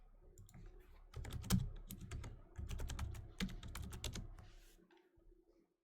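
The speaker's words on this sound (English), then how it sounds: "See if I can type into the thing." Quiet clicking of fingers typing on a computer keyboard, a fast irregular flurry of key presses with brief pauses, close and faint, during a gaming session.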